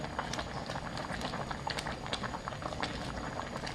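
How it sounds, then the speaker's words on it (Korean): Flounder and radish simmer in sauce with a steady bubbling, small pops and crackles throughout, close and moderately loud, with no talking. "양념장과 이렇게 같이 보글보글 끓고 있어요."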